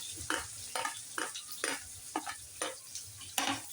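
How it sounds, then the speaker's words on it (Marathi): Sliced onions frying in hot oil with cumin seeds in a pan, a bright sizzle broken by a quick series of stirring scrapes and clacks of the spatula, close and unaccompanied by speech. "कांदा छान तळून घेऊया."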